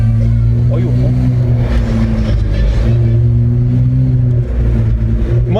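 Hyundai Azera V6 with an exhaust diffuser idling and revving in a deep, loud, continuous rumble close by, with brief rising revs and faint voices underneath.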